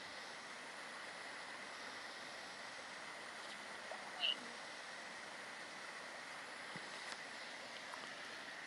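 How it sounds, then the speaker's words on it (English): A waterfall in a snowy Queens Park in Longton, heard as a steady, even rush of falling water at moderate distance, with one brief faint knock partway through. "That's another waterfall."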